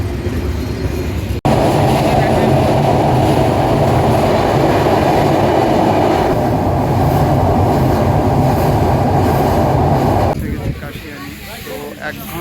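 The Rupashi Bangla Express passenger train runs from Dhaka toward Kashiani across the Padma Bridge, a loud, steady rumble and rattle heard from inside the carriage that holds nearly unbroken before easing off near the end.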